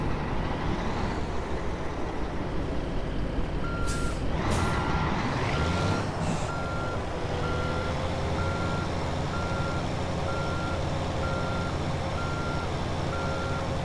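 A Freightliner FLD 120 semi truck in American Truck Simulator idles with a steady engine drone, then an air brake hisses and a reversing beeper starts chirping in an even repeating rhythm over the low rumble.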